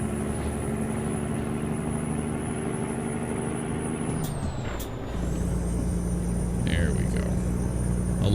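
A heavy truck's engine rumbles steadily in the American Truck Simulator game, broken by a sharp air-brake hiss midway, then the engine settles back into a lower, steady drone with faint beeps near the end.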